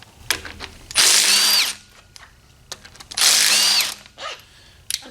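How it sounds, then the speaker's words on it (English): An impact wrench with a 16 mm socket loosening exhaust bolts on a Plymouth Barracuda, two loud close bursts of rapid hammering, each under a second long, separated by clinks and metallic handling sounds. "It'll be interesting to see if the other side breaks loose with my impact as easily as this side did"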